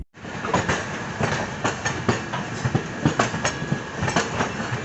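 Mussoorie Express passenger train running on the tracks between Haridwar and Delhi, with a steady loud rumble and repeated clickety-clack wheel beats over rail joints, heard close from on board.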